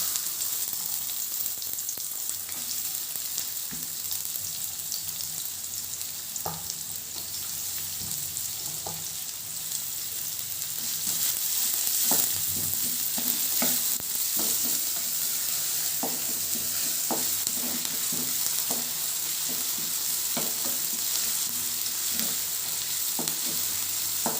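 Onions and curry leaves fry in hot oil in a pan, a steady close hiss with scattered scraping stirs that grows a little louder partway through.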